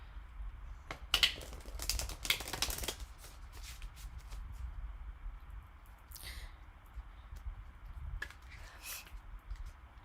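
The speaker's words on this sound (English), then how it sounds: "Let's get your cards down." Tarot cards being shuffled and dealt out, dense riffling bursts early on and then scattered soft slaps and rustles as cards are laid down, close and moderately loud with a low background rumble.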